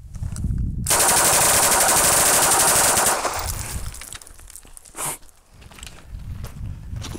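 A Polish RAK PM63 submachine gun fires fully automatic in a long, loud, continuous burst of rapid shots lasting about two seconds, followed by quieter outdoor sounds and one more sharp report.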